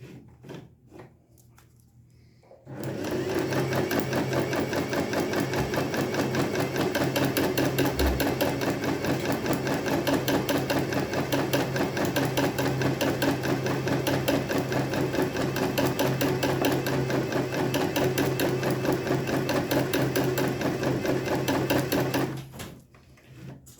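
A new-model embroidery sewing machine stitches fabric held in a hoop. After a quiet start it runs loud and steady for about twenty seconds with a fast, even mechanical rattle, then stops abruptly.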